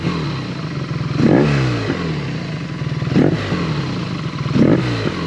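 A BMW R nineT motorcycle fitted with a Jekill & Hyde exhaust idles with a deep, lumpy throb and is blipped three times, each rev rising sharply and falling back to the idle, loud and close.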